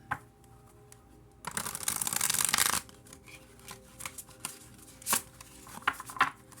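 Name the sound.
shuffling tarot cards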